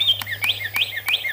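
A cat-skull novelty toy chirps in four quick, evenly spaced birdlike bursts. Each bright, warbling tweet is loud and close, set over a faint low hum, with no talking.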